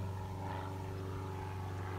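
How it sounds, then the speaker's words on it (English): An airplane flies far off over a quiet outdoor spot, giving a faint, steady low drone that holds evenly throughout without any talking. "There's an airplane over there in the distance you can hear."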